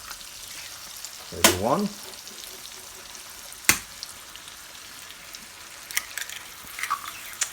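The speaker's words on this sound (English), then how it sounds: "you'll want to start cracking your eggs into your pan" Eggs frying in margarine with fresh salsa in a pan give off a constant soft sizzle and crackle, with two sharp clacks where eggs are cracked in and brief bits of talk over it.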